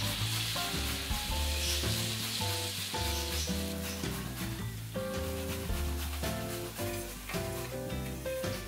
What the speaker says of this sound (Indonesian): Setelah itu, goreng ubi halus yang sudah direndam.